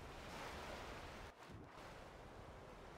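In the Skyrim video game, a character swimming produces a steady, full rush of water and surf-like wash, with a brief dip in the middle, and no talk over it.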